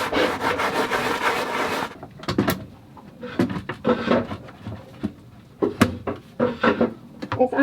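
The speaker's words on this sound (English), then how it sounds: "I'm actually going to get the scrub daddy on that." A Scrub Daddy sponge scrubs hard inside a dirty boat compartment, a dense rubbing burst that then breaks into irregular scraping strokes and knocks against the surfaces, close by.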